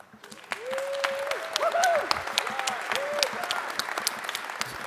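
An audience at a DEF CON closing ceremony panel breaks into applause, a steady wash of clapping that swells quickly and carries on with a few louder claps standing out.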